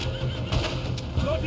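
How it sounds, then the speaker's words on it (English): Horses neighing and whinnying in a chaotic scene from the video game Red Dead Redemption 2, their cries rising over a dense, busy mix with voices talking throughout. "Now those horses are bolting."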